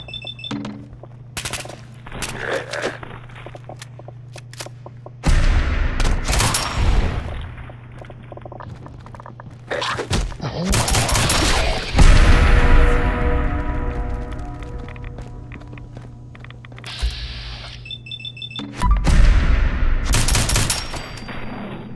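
Gunfire in the Fallout 4 video game, Nuka World: bursts of rapid automatic shots and single heavy reports in several loud clusters, separated by quieter stretches of game ambience.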